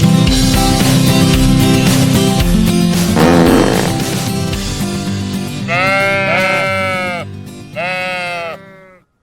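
Black sheep bleating, two loud, wavering cries near the end that follow music and singing.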